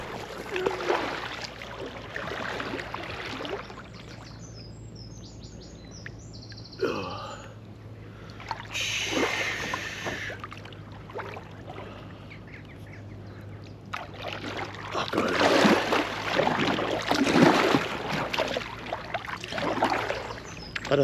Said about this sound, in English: Oh, there's a boat coming.